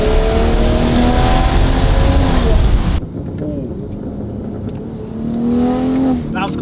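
A BMW G42 M240i engine with a Valvetronic Designs exhaust, valves closed, runs in a steady, loud drone with audible intake noise and a rise in revs near the end. Wind noise is present, and a loud cut at three seconds drops the level.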